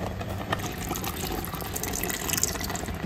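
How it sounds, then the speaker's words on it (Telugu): Half a glass of water poured into a pressure cooker holding mutton curry, giving a continuous close splashing gush that stays steady for about three seconds. "ఇదే హాఫ్ గ్లాస్ నీళ్ళు వేస్తున్నాను"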